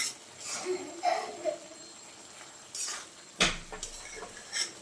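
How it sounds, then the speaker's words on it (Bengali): A spoon stirs dried fish curry with potatoes and onions in a cooking pot, giving a few light, scattered scrapes and clinks against the metal, close but fairly soft. "এবার ভালোভাবে নাড়াচাড়া করে নিচ্ছি তো আলু পেঁয়াজ সব ভালোভাবে সেদ্ধ হয়ে গেছে"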